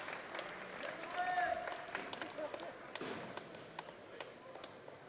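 Scattered crowd applause at a women's under-73 kg strongman competition, faint and distant, with a commentator talking over it.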